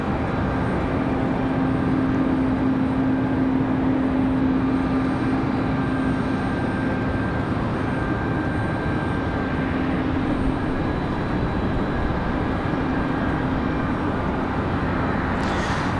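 Delta Airbus A220 airliner departing Raleigh-Durham International Airport at night, a steady, broad engine roar with a faint sustained whine, holding at a constant loudness for the whole stretch.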